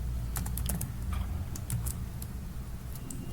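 HTML code is typed on a computer keyboard in quick, faint bursts of clicking keystrokes with short pauses between them, over a quiet background.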